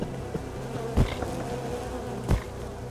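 Bees buzz in a steady low drone in the video game Unexplored, broken by two soft thuds.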